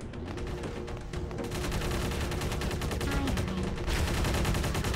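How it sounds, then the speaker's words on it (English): Portal turret guns fire in a modded Cursed Halo game, a dense, continuous rapid-fire rattle of gunshots that stays loud throughout with no pauses. "So now they have portal turret guns and they say portal noises."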